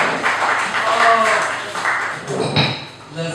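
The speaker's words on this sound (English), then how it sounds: "Put your hands together for your host, Nik" A comedy show audience applauds and cheers as the host is welcomed to the stage at the Roastery, with a steady wash of clapping throughout and a few whoops rising over it, fairly loud and close.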